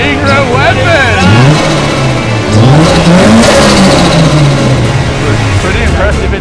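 Turbocharged Holden VL car engine revs hard with a turbo dose pipe fluttering, loud and close, rising and falling engine pitch over steady roar, with people talking and exclaiming over it.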